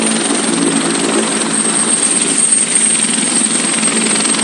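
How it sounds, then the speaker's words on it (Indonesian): A loud, steady helicopter drone with a constant rotor throb and high whine, close by and unbroken. "Persiapan pelaku untuk dinaikkan ke helikopter"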